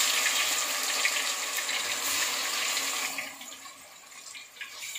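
Chopped ingredients hit hot oil for a village-style chicken gravy, giving a loud, steady broadband sizzle that lasts about three seconds, then eases to a softer, uneven crackle as the splashing settles.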